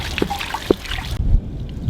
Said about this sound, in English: the water has slowed down to a little trickle coming out of the drain hole, which is at the bottom of the hot water heater